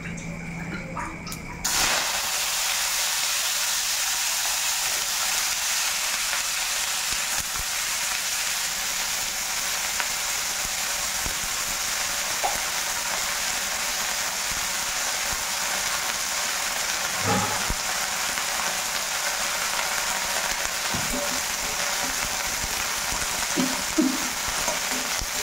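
Onions frying in a wok for a chicken dish at home: a steady loud sizzle that starts abruptly and continues with faint occasional stirring clicks.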